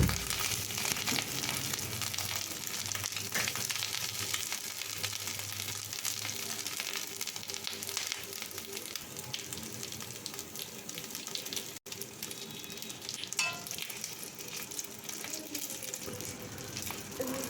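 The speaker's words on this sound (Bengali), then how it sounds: "এবারে সাদা তেল এগুলোকে হালকাভাবে ভেজে নেব, এপিট ওপিট করে একটু লাল করে ভেজে নেব" Semolina snacks fry in white oil in a kadai, giving a steady, close, moderately quiet sizzle with faint clinks and stirring, and no talking.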